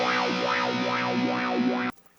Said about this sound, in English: bring that speed down really low and bring that depth up way high. And it really does kind of sound like you're playing through a wah pedal